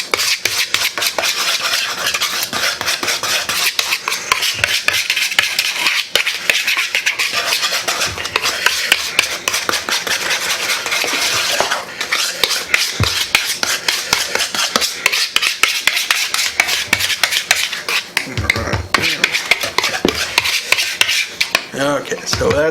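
Seasoning of garlic powder and salt being mixed in a bowl, with a steady run of scraping, clinking stirring, close and fairly loud, alone without talk.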